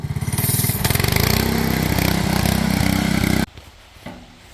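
A MaXpeedingrods 7HP 212cc single-cylinder engine repowering a John Deere 110 hydro tractor runs loud and close with a steady rapid putter, then cuts off abruptly, leaving a faint quiet tail with a small knock.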